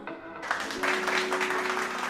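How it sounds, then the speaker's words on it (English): Hand clapping from a podcast audience or studio crowd, a dense patter of many claps that swells after a brief quieter start and continues steadily, with a faint tonal hum underneath. "Can I get a hand clap?"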